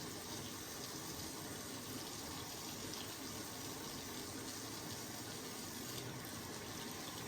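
Tap water runs steadily from a faucet into a sink while hands are rinsed during homemade butter making, a continuous close splashing gush with no talk.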